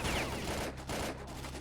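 Rapid video game gunfire, a burst of shots with a few brief gaps, loud and close throughout the whole short stretch.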